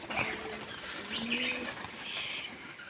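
Pigeons kept in a loft coo softly, with low throaty calls, a few chirps and a brief flutter of wings, fairly faint and close by without any talking.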